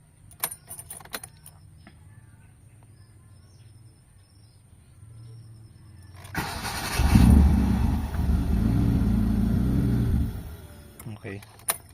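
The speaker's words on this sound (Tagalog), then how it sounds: "Start natin engine. Yan, so namamatay pa rin mga boss." A Mitsubishi Lancer GLXi engine cranks and catches, running roughly for a few seconds before dying, with quiet ambience and clicks before and after.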